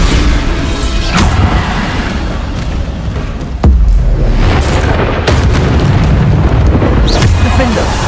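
Explosive spell blasts from the Hogwarts Legacy video game, with loud booming bursts over a dense, continuous layer of combat noise and music; one sharp impact stands out midway, followed by more rumbling blasts.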